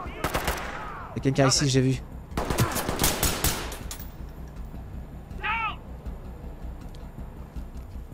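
Bursts of automatic gunfire in the tactical shooter Ready Or Not, loud rapid volleys near the start and again around the middle, with someone speaking French in between and a faint chirping sound later.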